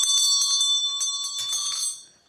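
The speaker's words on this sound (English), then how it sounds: "That's like a doorbell, isn't it? Look it over the door," An old shop door bell, an antique, ringing in a rapid, bright, continuous jangle close by for about two seconds before stopping and fading out, with no voices.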